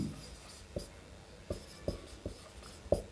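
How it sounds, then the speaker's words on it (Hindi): Chalk or marker on a classroom board makes quiet, sharp taps and short strokes, roughly one every half second, with no talk over them. "तो मैं लिखता हूँ"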